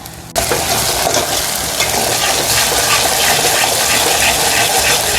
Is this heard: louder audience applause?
no